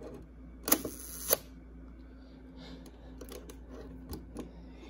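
A Canon IIB rangefinder camera shutter fires at half a second: a sharp click opens it and a second click closes it about half a second later, close up and alone, followed by faint mechanical ticks.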